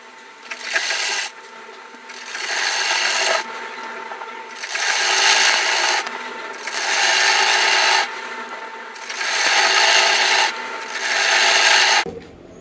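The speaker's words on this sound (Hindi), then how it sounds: "अब हम फिटिंग की सिलाई लगा लेते हैं।" A sewing machine stitches the fitting seams of a co-ord set garment in five rhythmic bursts of rapid whirring, with brief quiet pauses between each run and a sharp click at the end.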